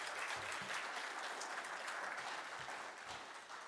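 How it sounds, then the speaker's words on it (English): An audience applauds a conference sponsor, Treevana, with a steady wash of clapping from many hands that holds for several seconds, fairly quiet and distant, and tapers slightly toward the end. "So let's give them a round of applause."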